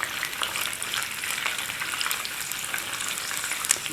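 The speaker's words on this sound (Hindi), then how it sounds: "तड़का लगने लगा है अब चनों को" Steady, close frying sizzle of chickpeas with black pepper and almonds in tempering oil, crackling and hissing continuously, with no talking.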